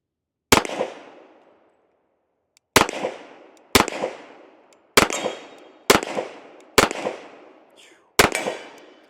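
Seven loud, sharp shots from a Sig 1911 Stainless Series X pistol fired outdoors in hot weather, spaced irregularly with short pauses, each crack followed by a quick echoing decay.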